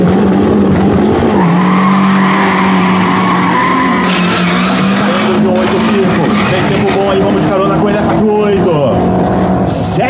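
Street cars accelerate hard along a race track during a city-versus-city challenge, with loud continuous engine roar, tire skids and passing vehicles, while an excited commentator talks over the noise.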